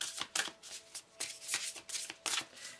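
Tarot cards are shuffled for a reading in close, quiet bursts of papery riffling, repeated in a steady rhythm with short gaps between them and no talk.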